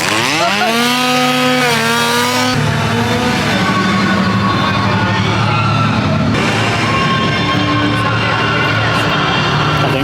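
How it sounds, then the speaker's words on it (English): A loud, continuous chainsaw drone with rising and falling pitch, revving throughout over a busy, noisy background at a Halloween horror event. "Oh, I've missed that sound of chainsaws."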